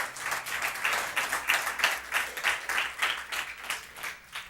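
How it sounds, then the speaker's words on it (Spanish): A church congregation claps together in a steady rhythmic beat, lively and even, the pulses repeating about twice a second throughout. "denle un aplauso fuerte al Rey"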